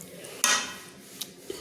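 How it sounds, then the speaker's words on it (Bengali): Veg dal served from a cooking pot with a spoon, giving a sharp clink of metal against the vessel followed by a few lighter taps and scrapes, close and fairly quiet with no talking. "এইভাবে আমি একটা চামচ দিয়ে পাত্রে কিন্তু সার্ভ করে নিচ্ছি"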